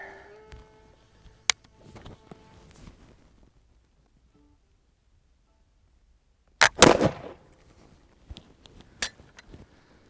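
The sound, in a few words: Charleville 1766/68 flintlock musket being fired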